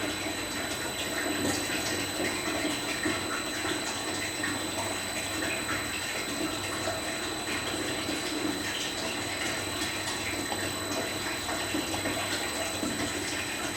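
Water rushing through the pipes of a Venturi tube pressure-measurement rig after a valve is opened, a steady, unbroken hiss and flow that stays constant and fairly loud from start to finish.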